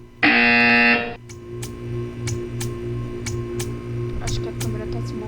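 A loud, harsh buzzer blares for about a second in the video game Portal 2, then a steady hum and scattered ticking clicks continue underneath.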